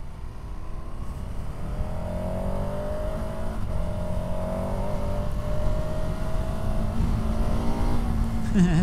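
A KTM 1290 Super Adventure S motorcycle accelerates hard on a country road through several rising gears in a continuous loud engine roar with wind rush, heard from the rider's position.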